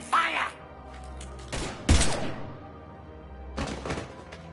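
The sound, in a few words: gunfire in the video game Mass Effect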